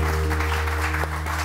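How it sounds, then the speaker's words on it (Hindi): A studio audience on a Pakistani morning television show applauds a band, a steady wash of clapping layered over a sustained low musical drone throughout. "और बैंड के लिए बहुत सारी तालियां"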